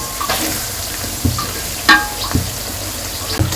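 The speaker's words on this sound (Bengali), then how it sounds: "রোস্টের জন্য এখানে হচ্ছে পেঁয়াজ ভাজা হচ্ছে।" Onions frying in a pan for a roast, with a steady close sizzle and several clinking stirs and scrapes of a utensil.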